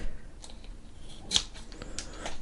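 Scissors snipping road bike handlebar bar tape at an angle, a single short sharp cut standing out amid quiet handling noises, close and fairly soft.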